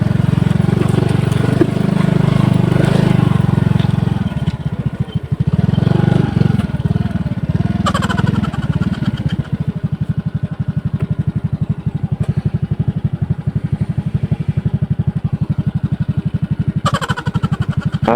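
A trail motorcycle idles nearby with a steady, low, throbbing engine note that holds for the whole stretch, dropping into a rough, uneven chug partway through and picking up a few brief clattering bursts.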